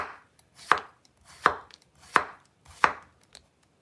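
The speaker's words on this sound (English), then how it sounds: "there's gonna be a lot of chopping" A kitchen knife chops vegetables on a board with four loud, evenly spaced thuds. Each stroke is slow and deliberate, and the knife sounds close and alone with no talking.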